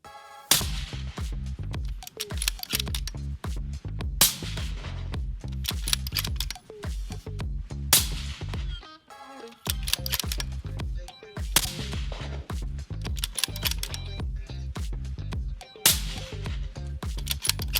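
Suppressed precision rifle fire at a PRS-style range: a series of sharp, muffled cracks spaced a couple of seconds apart, each followed by a brief ringing tail, loud and close with no speech.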